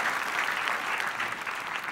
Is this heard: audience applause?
yes